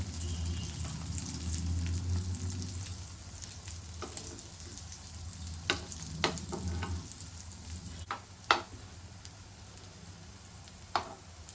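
Brinjal and potato slices, rawa-coated, fry on a hot tawa with a steady close sizzle, broken by occasional sharp crackles and pops and a few stirring or turning clicks, with no voices.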